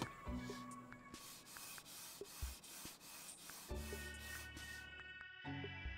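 Gaming mouse on stock feet slides back and forth across an Obsidian Red mousepad, giving a close, steady scratchy rubbing with soft bumps as it changes direction.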